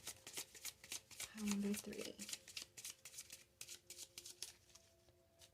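Tarot cards are shuffled by hand in quick, repeated riffling bursts close to the listener, while a voice speaks softly over the shuffling.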